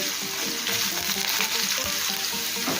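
Long-cut potato strips sizzle loudly in a pan while being stirred, a dense continuous frying hiss with scraping stir strokes, close and without voices.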